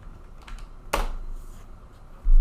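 A computer keyboard clicks in a few sparse keystrokes, one sharper tap standing out, close and fairly quiet against a low hum.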